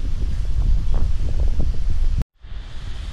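Strong wind buffets the microphone outdoors on a lawn, a continuous low rumbling roar with gusty swells that cuts out abruptly for a moment before the blowing resumes.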